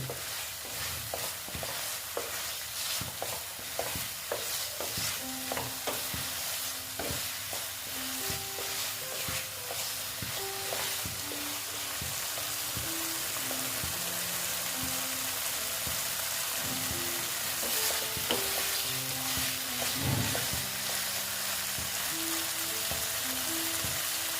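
Paneer pieces fry with spices in a pan, a continuous crackling sizzle with rapid spattering pops and repeated scrapes of a spoon stirring throughout, fairly quiet and steady.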